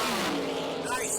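Chevrolet Camaro drag car with nitrous launching down the strip at a drag racing event, a loud sustained roar filling the short moment with a rising engine pitch, heard up close amid crowd and track noise.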